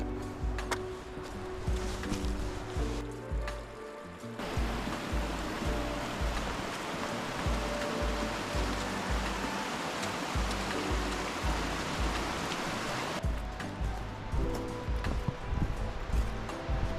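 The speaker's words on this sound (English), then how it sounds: "up on the hillside there is a nice sized waterfall coming down" A nice-sized waterfall pours down a hillside in Slippery Rock Gorge, a dense, continuous rushing roar heard steadily throughout, fairly close and loud.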